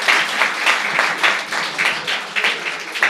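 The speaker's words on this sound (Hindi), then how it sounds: "ताली बजाओ यार।" An audience at a school stage event claps in sustained, dense applause that swells slightly in waves and continues throughout.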